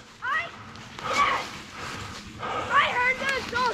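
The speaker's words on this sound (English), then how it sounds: "I heard those dogs barking so loud." Hunting dogs during a Virginia deer hunt, with several excited yelping barks and whines coming in short clustered bursts at moderate distance, mixed with background chatter.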